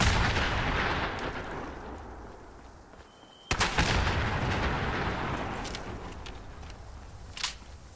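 Shotgun blasts in Fallout 76 come as a dense roaring barrage that dies away into a brief lull, then one sharp loud crack sets off more rumbling fire and a final pop.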